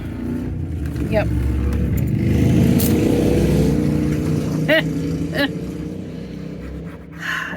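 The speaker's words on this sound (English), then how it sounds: "and that was a motorcycle." A motorcycle's engine drones and swells as it passes nearby at night, rising then fading, with occasional short voices over it.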